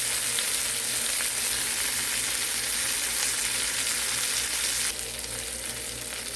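Garlic butter shrimp fry in a pan with a dense, steady sizzle and crackle, close and continuous, easing slightly toward the end, with no voices.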